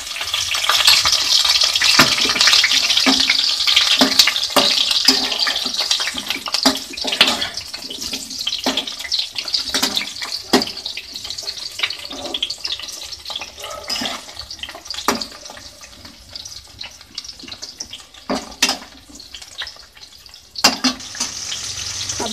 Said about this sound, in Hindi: अब हम इसमें कटे हुए प्याज डालते हैं, बड़े साइज के टुकड़े करके प्याज को काट लिए।